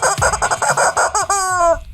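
Chicken clucking up close, a rapid burst of several loud clucks that rises into a drawn-out squawking call near the end, with no talk.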